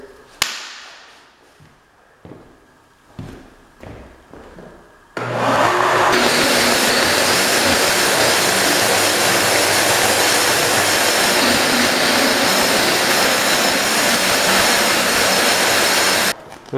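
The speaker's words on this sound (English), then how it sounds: "you see this piece of stone, it means I already grinded approximately from 1/8 to 1/4 inch down" A concrete grinder starts up on a self-levelling concrete floor after several short knocks, then roars continuously and loudly for about ten seconds with a harsh, broadband grinding hiss before stopping.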